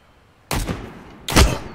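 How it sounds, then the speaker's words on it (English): Two loud gunshots in the survival game Road to Vostok, each a sharp blast with a short rumbling tail, the second heavier, about three quarters of a second apart. "Shots fired, but from where?"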